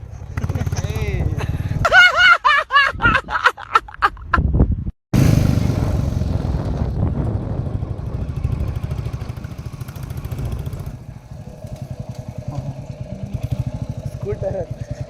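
An old Royal Enfield Bullet 350 motorcycle engine thumps steadily while riding, with a brief revving burst early on and a short cut. A continuous low rumble runs underneath, and people talk intermittently over it.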